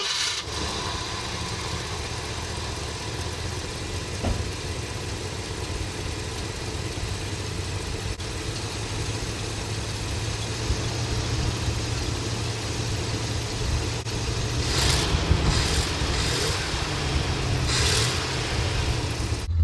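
A warmed-up 60-year-old car engine idles steadily, a low even rumble with a throaty exhaust note through a new full exhaust. It grows slightly louder near the end, with a few brief revs or clicks.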